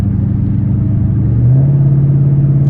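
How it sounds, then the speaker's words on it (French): Deep, throaty rumble of a Ford Mustang GT 5.0 V8 engine idling close by, its burble rising slightly to a steadier drone partway through. "vous entendez la mélodie du V8"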